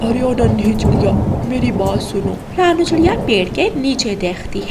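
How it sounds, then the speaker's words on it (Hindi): A cartoon storm scene has heavy rain and rumbling thunder continuing beneath an animated character's speech. "नहीं नन्ही चिड़िया, आज बारिश बहुत तेज है।"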